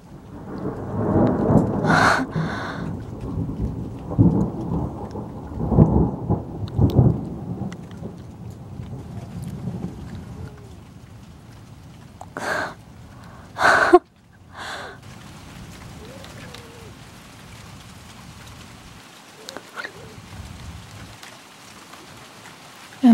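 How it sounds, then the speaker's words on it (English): Deep rumbling thunder rolls through the first half with sharp loud cracks midway, over a steady patter of rain that continues alone toward the end, as an English summer heatwave ends. "You hear the thunder?"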